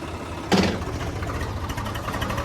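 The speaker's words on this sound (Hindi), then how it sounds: "ट्रैक्टर पे भी कुछ ज़्यादा खास लोड पड़ नहीं रहा है" A tractor engine drives a mulcher at a steady, moderate roar, with a brief louder surge early on and then an even rumble throughout.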